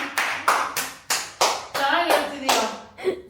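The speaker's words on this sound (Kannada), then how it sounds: "ಎಲ್ಲರೂ ಚಪ್ಪಾಳೆ ಹೊಡಿರೋ ಚಪ್ಪಾಳೆ ಚಪ್ಪಾಳೆ ಚಪ್ಪಾಳೆ" People clap hands in a celebration, about nine loud, close bursts in a rough rhythm.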